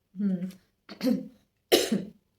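Three harsh coughs in a row, close and fairly loud, each followed by a brief pause.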